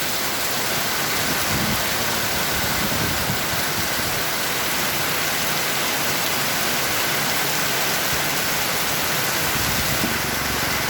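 Heavy, steady rain with wind pours down in Dingle, Iloilo, Philippines, a dense continuous roar of water with a low rumble underneath and no voices.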